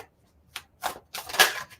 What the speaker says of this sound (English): Oh gosh, I can't shuffle today.